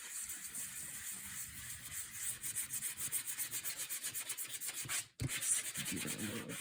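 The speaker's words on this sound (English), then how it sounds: "Let's give it a little scrub here" Brisk back-and-forth scrubbing on a glued paper surface, a steady rhythmic rasping close by that stops briefly and then resumes.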